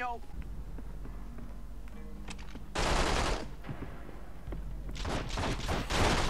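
Video game gunfire in The Matrix: Path of Neo, with bursts of rapid automatic shots in two dense stretches over steady game sound, while a voice talks over the action.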